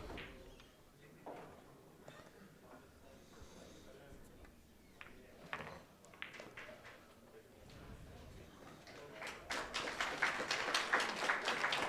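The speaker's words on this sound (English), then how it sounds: "they're clapping because SVB has got his first victory" Audience applause at a 2024 Premier League Pool match on Table One, swelling into sustained clapping toward the end beneath ongoing commentary and crowd murmur.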